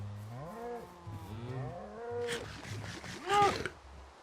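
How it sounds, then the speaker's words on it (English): Cows on an island low and moo in a few drawn-out, wavering calls close by, with a sharper animal cry near the end and little else around. "What's up, cows?"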